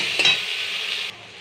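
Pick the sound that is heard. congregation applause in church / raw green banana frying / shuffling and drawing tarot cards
raw green banana frying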